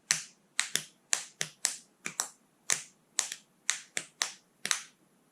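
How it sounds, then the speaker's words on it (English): Metronome clicks play a 5/4 polyrhythm, two interlocking streams of sharp, dry ticks in an uneven repeating pattern, close and clear against near silence. "a 5/4 polyrhythm would sound like this."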